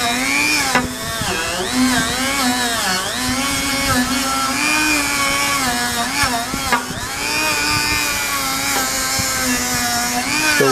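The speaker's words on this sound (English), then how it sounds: "I'm going to come with the Dremel tool and a little wire wheel brush and try to clean up around it." Dremel rotary tool with a small wire wheel brush scrubbing a refrigerator line on a General Electric Monitor Top fridge, a close, high whining motor whose pitch wavers and dips as it bites into the metal.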